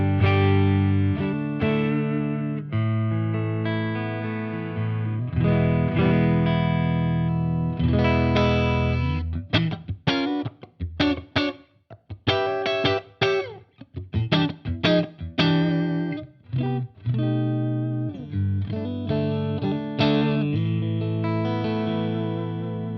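A Stratocaster electric guitar played straight into a clean amp with no boost or reverb plays sustained chords and then quick, choppy strummed passages, bright and ringing, loud and alone.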